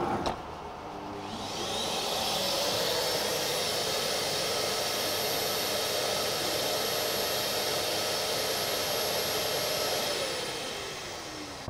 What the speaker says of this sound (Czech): Formování proběhlo v řádu sekund a vysavač se nám na konci sám vypnul